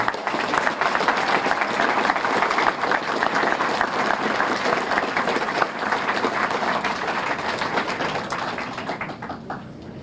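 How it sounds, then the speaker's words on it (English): Audience applause at a Korean Ambassador for Peace medal ceremony, a loud, steady round of clapping from a crowd that holds for about ten seconds before thinning slightly at the end. "let's give a round of applause one more time for these folks behind me"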